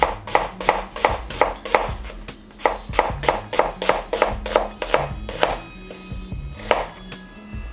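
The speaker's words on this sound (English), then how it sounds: "So we're just going to cut our end off." A kitchen knife slicing a peeled red onion on a cutting board: a quick, even series of crisp, close chopping knocks, with a few brief pauses between runs of strokes.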